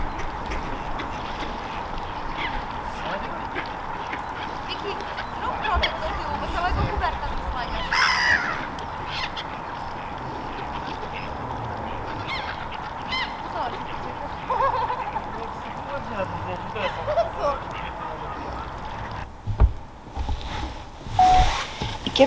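Ducks quack outdoors amid a busy ambient background, scattered calls rising now and then over steady noise, with people talking nearby.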